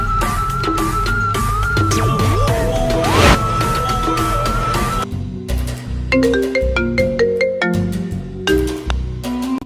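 A phone ringtone plays a looping electronic melody of clear tones, fairly loud and close, with some background noise in the first half.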